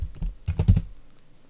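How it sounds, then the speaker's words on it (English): A password typed on a computer keyboard during a CentOS 6.5 login: a quick, close burst of about eight keystrokes clustered in under a second, followed by quiet. "type in my password,"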